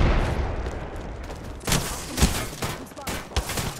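Gunfire in a shooter video game comes as loud, dense bursts of rapid shots and booms, with sharp impacts clustering in the later seconds over constant game noise.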